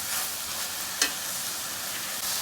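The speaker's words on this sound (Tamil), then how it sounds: "வெங்காயம் தக்காளியெலாம் நல்லா வதங்கிடுச்சு" Onions and tomatoes sautéing in a pan give a steady, even sizzle with one brief utensil tap near the middle.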